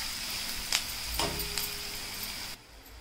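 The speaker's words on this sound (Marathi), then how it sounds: "तर आता आपण स्लो गॅसवरतीच कांदा सुद्धा पूर्णपणे शिजवून घेऊयात।" Onion cooking in a pan over a low flame gives a soft, steady sizzle and hiss with a few faint clicks and taps, quiet throughout and dropping off near the end.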